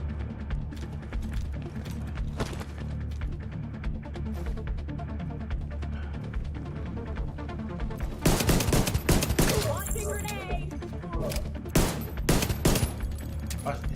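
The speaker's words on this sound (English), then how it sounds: "If you hit that bag twice, it will blow up the grenades in her backpack, basically turning her into a grenade itself." Video game gunfire in The Division 2: steady bursts of rapid shots, then a heavier stretch of loud overlapping blasts as grenades in an enemy's backpack explode, with crackling debris between the last volleys.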